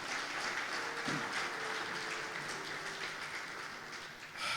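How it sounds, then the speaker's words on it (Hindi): Congregation applause at a Hindi-language Christian church service, a steady wash of clapping held at an even level throughout with a brief swell near the end, no voices standing out. "जोरदार तालियां खुदावंद यीशु मसीह की"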